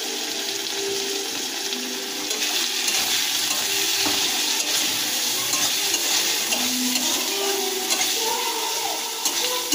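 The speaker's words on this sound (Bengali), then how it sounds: "ভালো করে কষিয়ে নেব।" Ginger-garlic paste and turmeric sizzle steadily in hot oil for a crab curry, with stirring scrapes in the pan, close and continuous with no talking.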